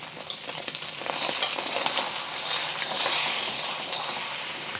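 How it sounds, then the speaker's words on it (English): Eggs stir-fry in a hot, oiled, well-seasoned wok, giving a soft continuous sizzle with scraping stirs, close and steady. "When your wok is nicely seasoned and when you add oil, when the wok is hot"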